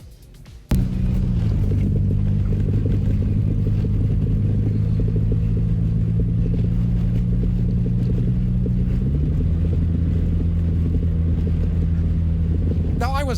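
A car drives across the Bonneville Salt Flats, its steady engine drone and road rumble heard from inside. The sound kicks in suddenly and holds loud and even, then shifts pitch partway through as the engine changes.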